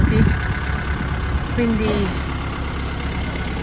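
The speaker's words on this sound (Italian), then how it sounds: "scaldiamo il motore e via." A car engine idles while warming up in a crowded parking area in Batumi, Georgia, giving a steady low rumble throughout as someone speaks briefly over it.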